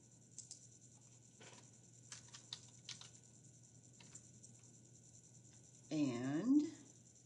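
Soft keystrokes on a computer keyboard click sparsely as a word is entered into a Word table, then a short burst of voice follows near the end.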